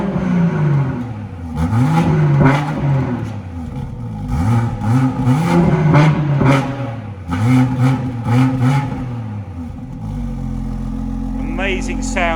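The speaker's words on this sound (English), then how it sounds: "we're going to pop the car into sport mode, which will open up the valves on the exhaust" A BMW 440i Gran Coupe with M Sport exhaust in sport mode, exhaust valves open, revs repeatedly in loud rising and falling bursts, then settles into a steady low drone near the end.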